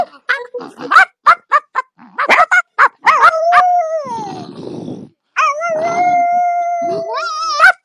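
A dog gives a run of sharp yips that rise into long, wavering howls, loud and close, with a brief pause between two sustained howls.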